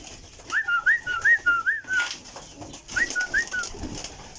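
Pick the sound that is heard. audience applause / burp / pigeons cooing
pigeons cooing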